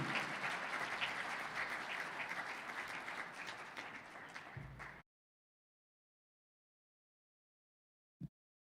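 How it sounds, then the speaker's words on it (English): A dinner audience at the Niagara Athletics Hall of Fame weekend claps in sustained applause for about five seconds, dense and steady before cutting off abruptly, followed by silence and one faint thump. "Just really appreciate a round of applause for Todd Callan."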